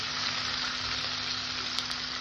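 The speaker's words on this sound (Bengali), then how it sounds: "মাছটা আমি হালকা ভাজবো খুব কড়া করে ভাজবো না" Khoira fish fry lightly in hot oil, giving a steady close sizzle and crackle throughout, with a couple of small sharp pops near the end and no talking.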